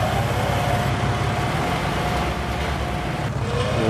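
Tractor on a farm engine chugging steadily up close, a low rumbling drone with constant loudness and no voices.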